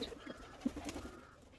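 A pigeon coos softly on a rooftop garden, a brief low call or two against faint background hum, distant and quiet.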